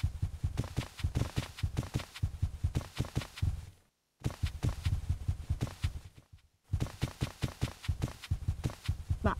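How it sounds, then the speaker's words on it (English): Footsteps in a Backrooms map in the video game Garry's Mod, a steady run of close, loud thudding steps that stops twice briefly before resuming at the same brisk pace. "Annoying footsteps."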